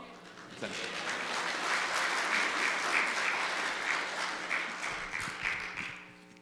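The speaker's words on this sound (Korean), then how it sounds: "이 목사님 나오실 때 우리 할렐루야로 박수로 우리 맞이하도록 하겠습니다" A church congregation applauds to welcome a visiting pastor at a Korean weekday worship service, dense sustained clapping filling the room for several seconds before fading, with faint voices mixed in.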